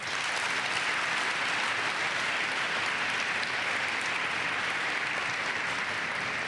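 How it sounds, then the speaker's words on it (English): Dense, steady applause from a large school audience for Attorney General Kamala Harris fills the whole stretch, an even wash of clapping without pauses. "Please give another round of applause for the Attorney General, Kamala Harris."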